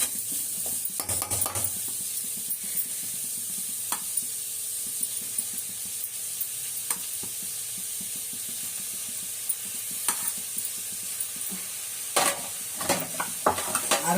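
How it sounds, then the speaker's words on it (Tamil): Cooked rice being stirred into frying vegetables in a pan, with a steady sizzle and repeated scraping and stirring strokes that continue throughout, plus a few sharper knocks of utensil against pan. "இப்போ வடித்த சாதத்தை நம்ம இதில் காயில் போட்டுக்குவோம்."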